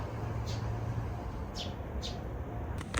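A few short, faint bird chirps sound outdoors in Japan just after rain, spaced irregularly over a soft, steady background hush.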